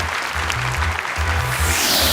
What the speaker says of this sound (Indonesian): Boleh tepuk tangan untuk Anissa.